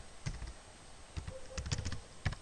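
Typing on a computer keyboard while writing Java code. Several scattered bursts of crisp, close key clicks with short pauses between them, fairly quiet and without talk.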